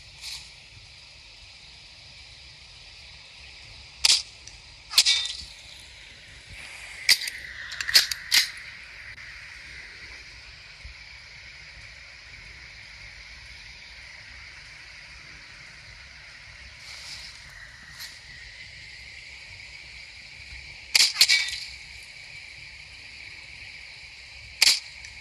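Sharp pistol shots in a video game ring out in scattered bursts: a single crack near four seconds, a clustered volley around seven to eight, another pair past twenty, each loud and abrupt over a quiet low hum.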